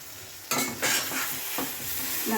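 Jujube achaar is stirred in a pan over a gas flame, a spoon scraping and clinking through the sizzling fruit in close, repeated strokes against a steady frying hiss.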